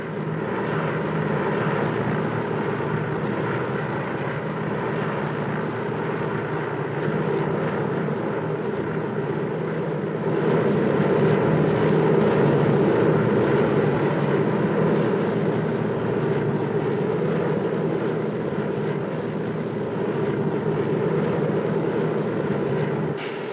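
A steady, droning cabin roar from a propeller airplane in flight, unbroken and fairly loud throughout, swelling slightly midway with no voices over it.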